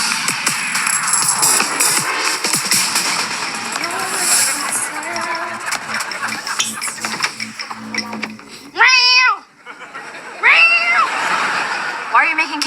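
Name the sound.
person imitating cat sounds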